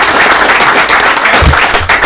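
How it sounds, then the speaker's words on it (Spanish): A small audience at a panel talk on football fiction breaks into dense, close applause, a steady loud patter of many hands for about two seconds. "Aplausos, por favor."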